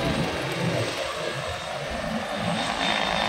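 A helicopter landing at the Pawan Hans helipad in Juhu, Mumbai, on a rainy day: a steady, loud, broadband rotor and engine roar fills the whole stretch without a break, with no talk.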